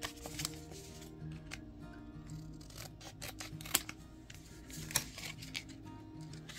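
Scissors snipping open a package holding a poker chip, a close series of sharp crisp cuts with a couple of louder snaps and rustling between them.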